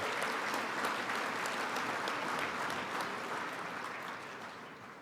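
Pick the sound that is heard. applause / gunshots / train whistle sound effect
applause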